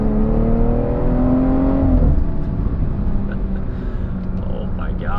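A tuned car running MHD software accelerates hard, a loud revving engine whose pitch climbs steadily and then drops away into a continuous rumble and whir.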